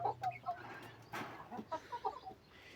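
Chickens and a rooster cluck at a poultry yard where roosters are kept for sale, giving a series of short, close, choppy clucks in an uneven rhythm with no talking.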